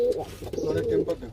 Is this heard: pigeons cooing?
yes